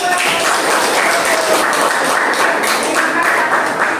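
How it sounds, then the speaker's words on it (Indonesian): A classroom group clapping together after a discussion presentation, a loud, continuous patter of hands filling the room. "beri tepuk tangan dulu"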